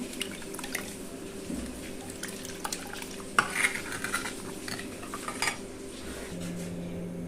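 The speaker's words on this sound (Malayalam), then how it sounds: "ഒരു തവി വെച്ചിട്ട് നമുക്ക് നന്നായി മിക്സ് ചെയ്ത് കൊടുക്കാം" Metal ladle scraping and clinking against a pot of rasam, a soft stirring clatter with occasional sharper knocks, alone without speech.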